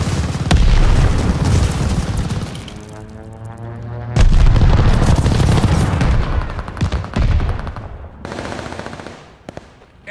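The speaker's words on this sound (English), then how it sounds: "Friendly sending an airstrike." Heavy airstrike explosions boom across a Call of Duty battlefield, loud deep blasts with rolling rumble and rapid gunfire rattling between them, one dramatic whooshing descent before a fresh wave of impacts.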